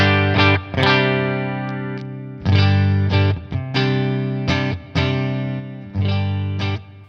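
Clean electric guitar through a NuX Amp Academy stereo amp setup with a boost engaged, played as loud strummed chords that ring out in several separate bursts, each with a sharp attack and short sustain, and no voices.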